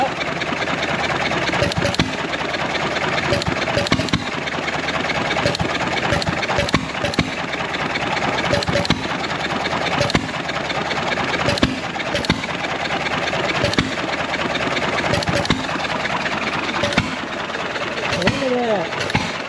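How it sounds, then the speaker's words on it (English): An old John Deere 1.5 hp gas engine idling steadily with a regular chugging beat, close and fairly loud throughout. Someone talks over it. "It's back alive and running nice."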